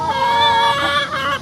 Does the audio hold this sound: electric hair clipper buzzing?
no